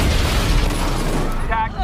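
A car bomb detonates in an action movie scene, a loud, dense booming blast with rumbling debris that fills the moment, while speech runs underneath, then fades into a brief quieter tail.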